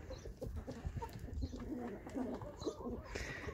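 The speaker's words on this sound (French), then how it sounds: "Et voilà les poules." Hens clucking together as a flock, a busy, continuous stream of close clucks and low calls over steady background noise, with no talk.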